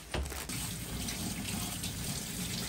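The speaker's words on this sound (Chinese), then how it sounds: "好了，不要玩水了，你洗完就好了。" Tap water runs steadily into a sink as a child washes hands, a close, continuous splashing rush with a brief knock at the start.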